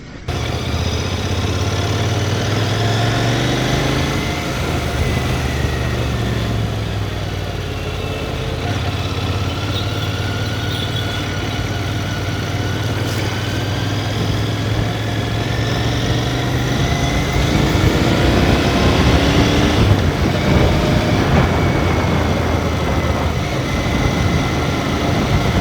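Royal Enfield Continental GT650 twin with exhaust on both sides, riding in sixth gear: a steady low engine drone with a smooth hum and rising road and wind rush, continuous and fairly loud throughout.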